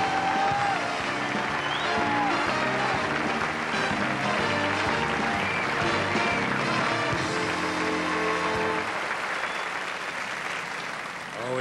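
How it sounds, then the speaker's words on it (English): A large audience at a 1997 comedy awards ceremony gives sustained applause, a thick continuous roar of clapping lasting over ten seconds, with music playing underneath and tapering slightly at the end. "Please, let's give him a warm round of applause."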